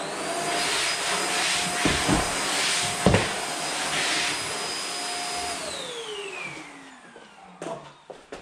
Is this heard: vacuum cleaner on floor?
yes